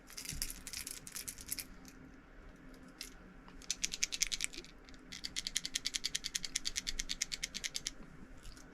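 A red crankbait fishing lure is shaken by hand, giving bursts of quick, fine rattling clicks, fairly close and moderately quiet, in short rhythmic runs separated by pauses.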